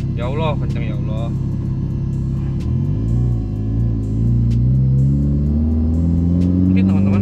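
A tuned Honda Jazz engine drones loud and close from inside the cabin, dipping and then rising steadily in pitch as it accelerates, with talk over it at the start and end.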